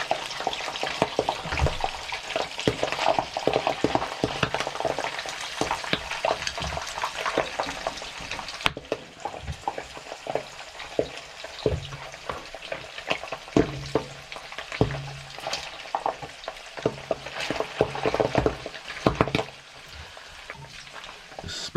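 Pork pieces fry in hot pork lard and beef dripping on a stovetop, a dense, steady crackling sizzle with frequent sharp spits and pops throughout, close and loud with no voices.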